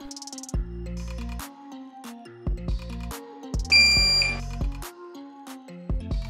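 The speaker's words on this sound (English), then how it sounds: "You will hear a beep sound when the machine boots." A Flying Bear Ghost 6 CoreXY 3D printer sounds a series of loud electronic beeps and short melodic tones as it boots, clear and close with brief pauses between them and no talking.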